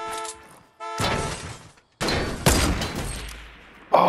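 Gunfire in a video game, several sharp, loud shots in separate bursts with abrupt starts and short decaying tails, one landing as a one-shot headshot kill, with no talk over them.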